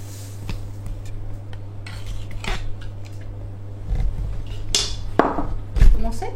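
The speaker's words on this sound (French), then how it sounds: "on va commencer par fouetter le beurre avec le sucre" Butter and sugar being whisked in a bowl, heard as irregular metallic clinks and scrapes of the whisk against the bowl, fairly close, with a steady low hum underneath and a louder knock near the end.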